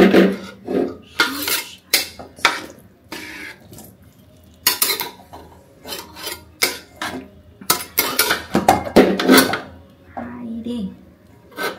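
Mixed vegetable curry made with eleven vegetables is stirred and fried in a pot, with repeated scraping and clattering bursts from a utensil against metal, some loud and close, and a little background voice between strokes.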